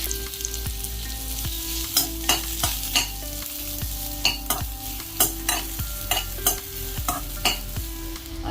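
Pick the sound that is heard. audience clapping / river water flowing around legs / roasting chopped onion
roasting chopped onion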